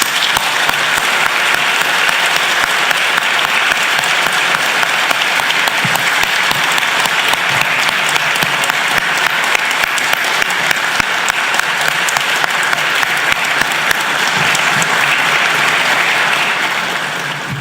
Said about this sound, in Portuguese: convoco desta plateia, se assim pensa, uma honrosa salva de palma ao exercício da advocacia aqui representado